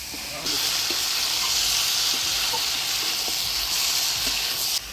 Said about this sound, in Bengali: মাংসটা ভালোভাবে নাড়াচাড়া করে নিলাম